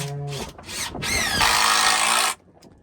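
Power drill driving screws into wood during a repair on a silage setup, with a few short whirs and then one loud, sustained, close high-pitched whine that stops abruptly.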